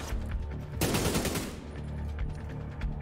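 AK rifle fired in The Division 2, a sudden loud automatic burst lasting about a second that rises out of quieter game ambience, then fades into faint scattered clicks and background noise.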